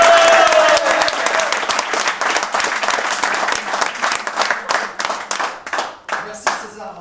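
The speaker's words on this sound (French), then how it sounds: "Et parmi nous ce soir, mesdames, messieurs, applaudissements chez vous dans votre maison et sur le plateau, César Delgado." Studio audience applause on a French television set, dense clapping that is loud at first and then thins into scattered, separate claps before it fades.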